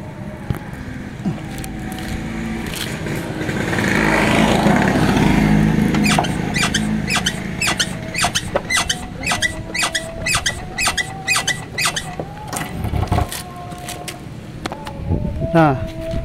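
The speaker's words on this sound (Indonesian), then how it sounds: "Shock breakernya tuh kalau dinaikin tuh ada bunyi ngik ngik ngik" Repeated short squeaks sound in a steady rhythm over a low motor hum and road noise, the rear shock absorber of an old Yamaha Vixion motorcycle creaking each time it's pushed.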